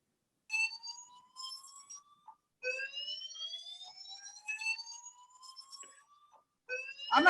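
Fire alarm sounding inside a building, shrill rising electronic tones repeating in bursts with short gaps, fairly clear and alone.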